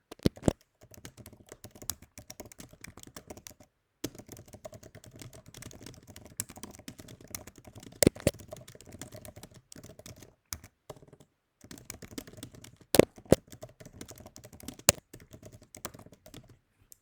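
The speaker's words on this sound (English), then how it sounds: "So I'm going to type in something here." Typing on a computer keyboard in a text editor, a steady close run of clicking keystrokes with louder taps now and then and a few short pauses.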